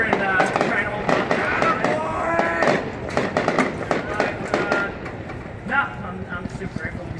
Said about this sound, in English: A lot of fireworks, fireballs.